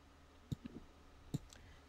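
A quick double mouse click, then a second one a moment later, both crisp and faint in a quiet room.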